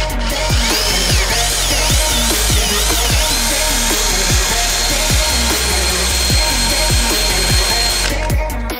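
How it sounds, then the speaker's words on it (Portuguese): An electric drill bores through the old sheet-metal body of a Chevette car, a loud steady whine with repeated grinding bites as the bit cuts and catches, running continuously for several seconds without talk. "Tá ali sem dó com a furadeira agora, né?"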